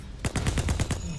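Rapid automatic gunfire in a video game, a quick burst of about eight evenly spaced shots close up and loud, with no talk over it.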